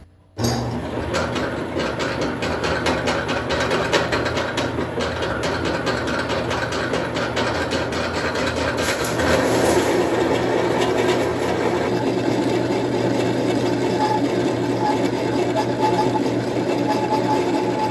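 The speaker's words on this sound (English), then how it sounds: "I'm going to tighten it to where you can hear them just scraping" A steady mechanical grinding drone of corn grinder plates set to their finest setting, with a gritty scraping texture, running continuously and fairly loud without pause.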